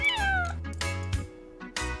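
A cat meows once at the start, a clear falling cry, followed by softer scattered sounds and low hum, with nothing else prominent.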